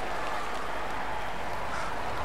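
Steady applause from a crowd, a continuous wash of clapping at moderate distance with no pauses.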